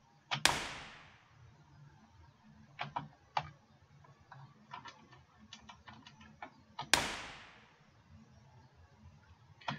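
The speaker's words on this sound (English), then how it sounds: "So that's the impulse response" A reverb impulse response played through the Reason RV7000 MKII reverb device: two sharp transient hits, each followed by a long decaying tail, with scattered lighter clicks and taps between them.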